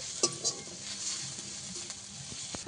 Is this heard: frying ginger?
yes